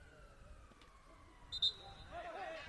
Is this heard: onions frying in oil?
no